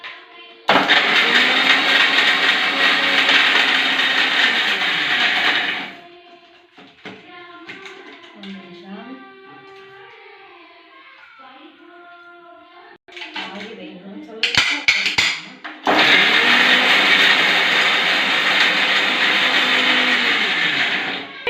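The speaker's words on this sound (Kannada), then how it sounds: "ಇವಾಗ ಮಿಕ್ಸಿಯಲ್ಲಿ ಒಂದು ಸ್ವಲ್ಪ ತಿರ್ಗಿಸ್ಕೊಳೋಣ." An electric mixer grinder whirring through salt, garlic, cumin, chilli powder, jaggery and coriander: two loud, close bursts of high motor whine, one near the start and one near the end, with talking and small clatters in the quieter gap between.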